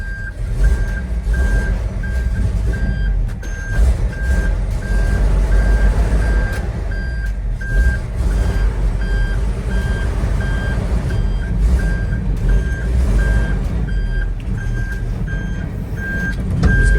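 Reversing beeps from a 1979 Ford F700 dump truck, fitted with a swapped 12v Cummins, repeat in an even rhythm over a loud, steady idling diesel rumble.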